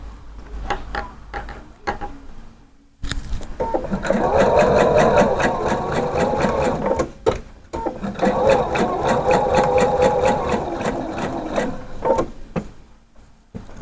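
Sewing machine stitching a skirt, running in two long steady bursts of rapid mechanical chatter, close and loud, separated by a short pause, with a few quieter clicks before it starts.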